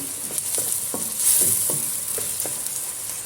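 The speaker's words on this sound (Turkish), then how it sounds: "iç yağımı da şöyle 2-3 parça ilave edip soğanla beraber kavuruyorum" Beef suet pieces and onions sauté in a pan for a Black Sea collard greens dish, giving a close sizzle broken by several sharp scrapes and clinks of stirring, with no talking.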